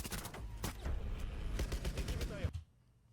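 FMG submachine gun firing in a video game, a quick run of sharp rapid shots in a rattling burst that cuts off abruptly near the end.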